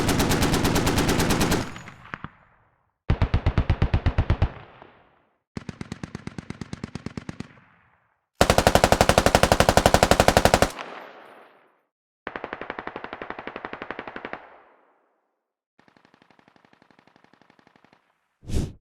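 Vehicle-mounted 7.62 and .50 cal machine guns from the game Squad, Australian forces, fire in loud, sustained automatic bursts with short gaps between them. The final burst is faint and thin, and a single sharp shot closes the sequence.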